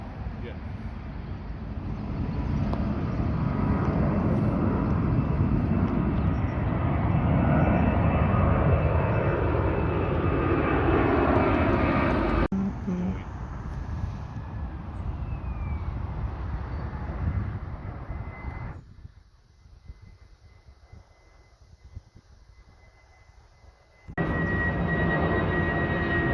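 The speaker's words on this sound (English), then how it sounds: "it's a Dreamliner" Boeing 787 Dreamliner at London Heathrow, a loud sustained jet engine roar that swells and then fades into a thinner whine before another surge, heard from nearby with people talking over it.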